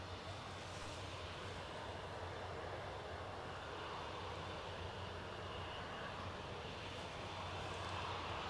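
A KLM Embraer jet departs with a steady, broad engine roar heard from a distance, holding a constant level and slowly swelling toward the end.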